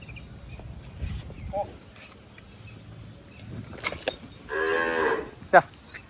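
A Kankrej bull in Banaskantha gives one loud, drawn-out moo, close by, amid outdoor farm noise, rustling and brief voices.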